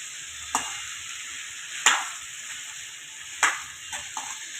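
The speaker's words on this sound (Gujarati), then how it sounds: "આવી રીતે એક બે મિનિટ હલાવતા જ રહેવું બધી મસાલો મિક્સ થઈ જાય છે" A black chickpea curry stirred in a pan, a steady hiss broken by a few sharp scrapes of a spoon against the metal spaced about a second apart, close and alone.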